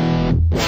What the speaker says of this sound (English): you can kick on now to get the distortion sound